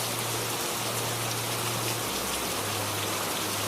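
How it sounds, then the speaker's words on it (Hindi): Heavy rain pours steadily at night, a dense, even hiss with no break, alongside a low continuous hum and no voices. "फिर उसी दिन रात को बारिश शुरू हो जाती है।"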